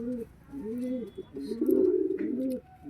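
A restless Pakistani high-flying pigeon with red tail feathers and regrown clipped wings, held in the hand, gives repeated soft cooing calls close by with no talk.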